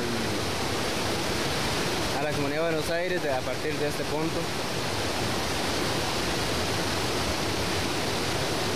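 Constant rushing flow of the Cavagra river, a steady broadband wash throughout, with someone speaking Spanish over it partway through.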